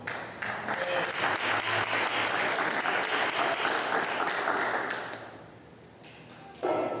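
Steady, loud clapping from a congregation inside a church for several seconds, fading near the end as a voice comes back in.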